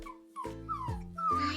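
A puppy whimpers in a few thin, wavering whines, each rising and falling in pitch and separated by short pauses, close and clear with no voices.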